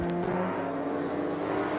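A Burnside race car in a BeamNG figure-8 derby tournament roars steadily through its lap, a sustained engine drone with shifting harmonics, loud and continuous with no voices.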